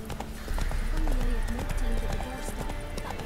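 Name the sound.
horse Roach galloping, from video game Witcher 3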